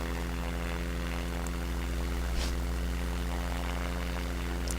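A propeller plane in SimplePlanes spools up for takeoff, its engine holding a steady, loud drone with a strong low hum that runs unbroken through the whole stretch, close and with no talk.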